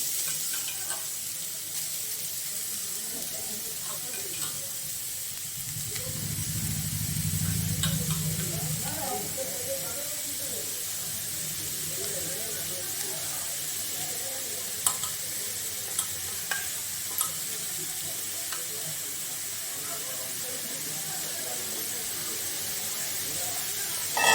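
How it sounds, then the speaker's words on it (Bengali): Carrots frying in ghee with small cardamom pods in a pan, giving a steady soft sizzle and hiss with repeated stirring scrapes throughout and a few sharp clinks near the end. "ঘিয়ের মধ্যে কটা ছোট এলাচ দিয়ে দিয়েছি। এইবারে আমি গাজর দিয়ে দিচ্ছি।"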